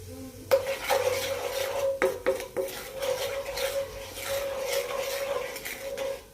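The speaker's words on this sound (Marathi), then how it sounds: "थोडं लाल तिखट आणि थोडी हळद. छान असे मिक्स करून घेऊया." A spoon stirs red chili powder and turmeric in a bowl for a chili pickle, scraping steadily against the sides with a few sharper knocks, close and alone.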